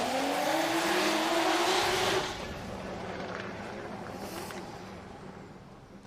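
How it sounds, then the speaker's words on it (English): A Formula Drift car at full throttle on a qualifying run at Okuibuki, Japan, its engine roaring loudly and nearby before it fades into a more distant, lower drone as the car moves away. "Throttling through outer zone 2, coming along, outer zone 3. Full throttle."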